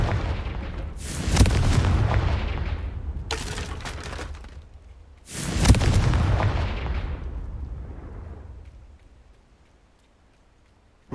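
Confringo fire spell explosions in the video game Hogwarts Legacy: three loud, booming blasts, each with a long, rumbling decay that fades into near silence at the end.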